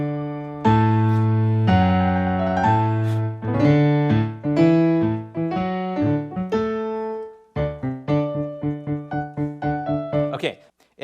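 A melodic theme from Mozart's Sonata in D plays as a steady run of clear piano-like notes, starting with longer held tones and moving into quicker repeated figures, close and alone.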